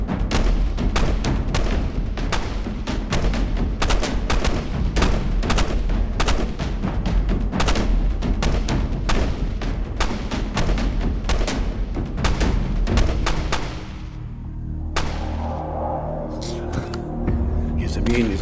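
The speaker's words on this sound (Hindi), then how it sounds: "गोलियों की आवाज जब तक ना रुके, जब तक मैं ना बोलूं।" Rapid, continuous gunfire in a Hindi short film scene, shots cracking densely and loudly for about thirteen seconds before stopping, followed by lower background noise.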